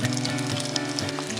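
Perogies frying in olive oil in a saucepan, a steady dense sizzle with a low hum underneath, constant and close throughout.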